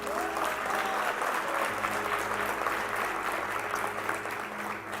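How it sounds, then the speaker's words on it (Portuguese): A church congregation applauding, sustained loud clapping from a large crowd in a reverberant hall, with a low steady hum beneath. "Você pode dar um aplauso a Ele?"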